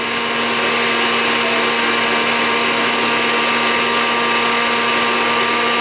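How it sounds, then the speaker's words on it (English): An electric stand mixer whirs steadily and loudly at high speed while beating cake batter with flour, a continuous motor drone that holds unchanged throughout with no voices. "The mixer's on too fast, your flour will come in your face."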